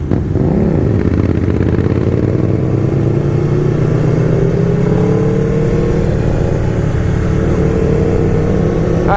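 An Aprilia RSV4R motorcycle rides and accelerates continuously, its engine droning loud and close with rising revs and a rough mechanical edge throughout, no voices.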